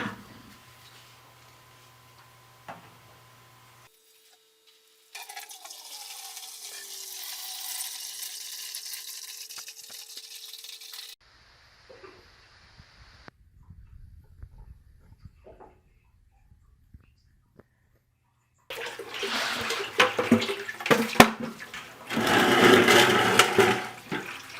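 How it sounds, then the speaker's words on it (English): Water drains from a 75-gallon gas water heater tank through a hose into a bucket, heard as a steady moderate rush that starts and stops in a few stretches, with louder, busier splashing near the end. "attach your hose to this valve. And we're ready to drain it into the bucket."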